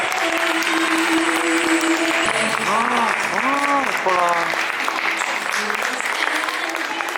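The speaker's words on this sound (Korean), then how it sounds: "여러분 큰 박수로 맞이해주세요" Steady applause from a crowd fills the whole stretch, with a loud sung or amplified voice carrying over the clapping.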